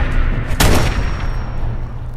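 A single loud gunshot rings out in Fallout 4, a sharp burst that trails off over continuous game background noise.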